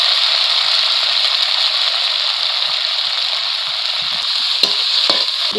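A ground chili and cumin paste fries in hot oil in a pan for a rohu fish curry, giving a loud, continuous close sizzle with a few faint utensil taps near the end.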